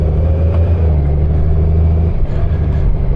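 A 2024 Honda Goldwing Tour motorcycle underway, its engine a steady low rumble with continuous road and wind noise throughout and a slight dip near the end, with no voices.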